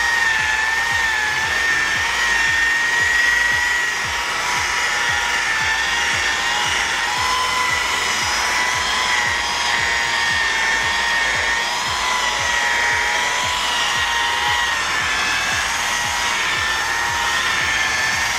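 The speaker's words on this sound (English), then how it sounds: "machine polish now. We're using actually the rubbing compound right now at 18 to 1900 RPMs" Machine polisher running at about 1800 to 1900 RPM, buffing a cracked car bumper with rubbing compound, a steady close high whine holding constant throughout.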